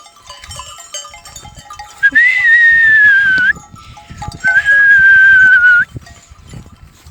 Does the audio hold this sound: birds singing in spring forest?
no